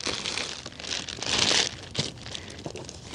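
Plastic packaging being unwrapped from a seat, a steady close crinkling and rustling with a louder crumpling swell partway through, no talking.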